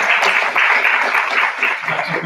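Loud, dense applause from an audience at a Turkish teachers' club gathering fills the whole stretch, steady and close, with no break and no talk over it.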